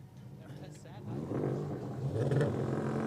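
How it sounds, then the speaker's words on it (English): An Audi and a Volkswagen Passat launch off the line in a drag race, engine noise rising as they accelerate, heard from a distance under a commentator talking. "we've got another Audi down here, about to take on the Volkswagen"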